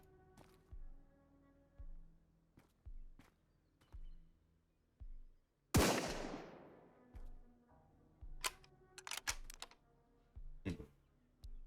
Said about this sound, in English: You also press the reload key to cycle on a round